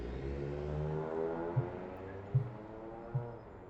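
A car engine revs and pulls away in the Coteries of New York video game, a smooth mid-pitched drone that fades slightly, with a few soft thumps along the way.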